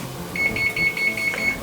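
A kitchen oven chimes as it finishes preheating, a rapid run of about seven short, high, evenly spaced beeps over a low room hum.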